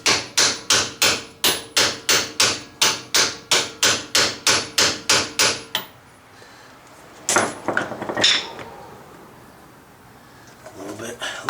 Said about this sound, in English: Just hammer this in until the seal bottoms out.